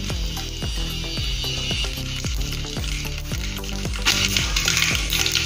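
Mustard seeds dropped into hot oil for chole pop and sizzle steadily, with a regular series of sharp crackles over a bright frying hiss that swells louder toward the end, close and without talk.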